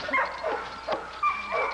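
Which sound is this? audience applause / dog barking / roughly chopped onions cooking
dog barking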